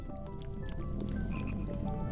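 Frogs croaking in the video game Pikmin 2: a run of short, pitched, bubbly croaks at a steady quick pace, fairly faint and with no talk over them.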